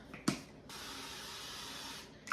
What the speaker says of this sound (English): I'm just gonna spray a little avocado oil on the bottom